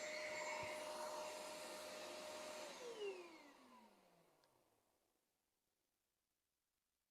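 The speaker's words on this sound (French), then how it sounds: "elle a fini d'aspirer tout ce qu'il y avait dans le robot" An iLife G9 Pro auto-empty station loudly suctions the robot vacuum's bin, a steady roaring whoosh that winds down with a falling pitch and fades to silence.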